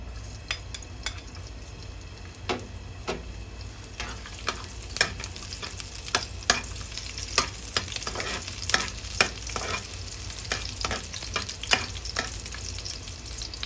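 Pork and cabbage stir-frying in oil in a home kitchen, a steady close sizzle with frequent sharp scrapes and clinks of a utensil stirring against the pan throughout.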